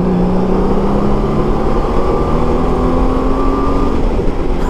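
A 2018 Honda Gold Wing motorcycle accelerates hard in sport mode after dropping to fourth gear. The engine note climbs steadily and loudly under wind rush, with no talking.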